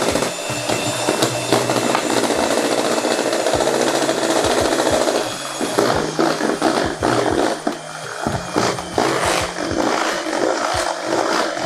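An electric hand mixer beats orange cake batter as dry ingredients are worked in, a loud, steady whirring drone that runs the whole time with a few brief dips in pitch and strength toward the end.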